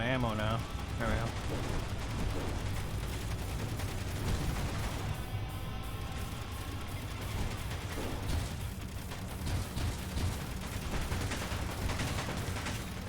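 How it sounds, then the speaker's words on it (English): Gunfire in the video game Escape From Mars, a dense, sustained barrage of shots and booms running throughout at steady loudness, with a voice talking over it. "I don't know what the hell the other one's shooting at"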